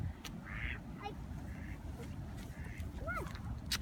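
A duck quacks outdoors, a few short nasal calls spaced over several seconds over a steady background rumble, with a faint voice underneath.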